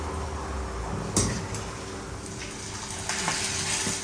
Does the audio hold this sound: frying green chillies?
yes